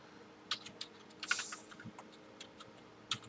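Someone taps a computer keyboard in a quiet room. The keystrokes are soft and irregular, with a brief cluster of quick clicks near the middle.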